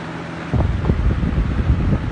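A Cool-Breeze box fan fitted with an Edison motor is switched to high: after a quieter moment its steady whooshing roar swells up and carries on close and loud, alone.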